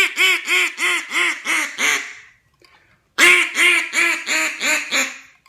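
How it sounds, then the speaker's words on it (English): Two loud bursts of a duck call, each a fast series of about six to seven quacking notes, separated by a short silent pause. "you can hit them with a comeback call"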